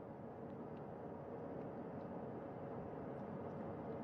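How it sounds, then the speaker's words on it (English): Helicopter hovering about 40 feet above the deck of a recovery ship during the Artemis II spacecraft recovery, a steady, faint, distant broadband rotor and engine drone that holds without a break and carries no speech. "Helicopter 1 again hovering 40 feet over the front porch."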